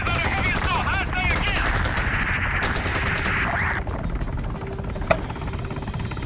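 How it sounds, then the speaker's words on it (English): An Arma 3 battle fills the scene with dense, continuous gunfire and bursts of automatic fire, with aircraft noise mixed in. Radio-style voices speak over the din, and a sharper crack cuts through near the end. "Numerous aircraft and infantry firing in our position."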